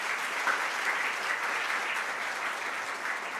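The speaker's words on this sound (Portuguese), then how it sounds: "Uma salva de palmas para minha assistente." A congregation claps steadily in a church service, a dense even wash of applause from many hands that holds constant throughout with no voices over it.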